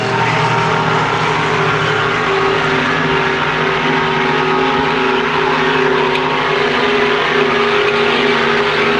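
Racing powerboats of the 550 class roar off the start of a lobster carnival boat race, a loud, steady, dense engine drone holding through the whole stretch with no break.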